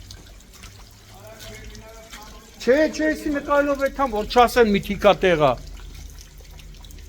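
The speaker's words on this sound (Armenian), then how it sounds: "դրսում է խողովակը վնասված, կոյուղատարի ու մեծ թափով կեղտա ջուրը սենց գնում է" Sewage water rushes out of a damaged outdoor pipe in a flooded residential neighborhood, a low steady roar running throughout as a person talks over it midway.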